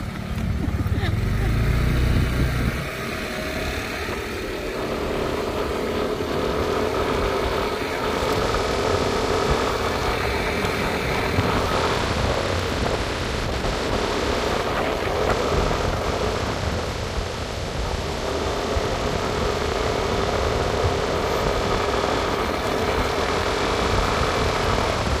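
Steady motorcycle engine drone while riding along a country road on a Quezon island trip, continuous and close with wind rush, and people talking over it.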